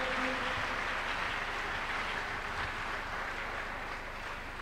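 A church congregation claps together during a Tuesday miracle service: a dense, steady wash of applause that fills the room and tapers off slightly toward the end, with no voices standing out.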